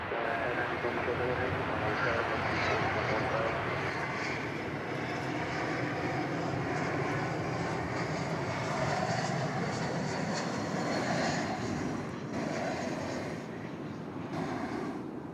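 Airliner on a Seattle flight at an airport, a broad, sustained jet roar that stays fairly steady and eases slightly near the end, with a voice talking intermittently over it.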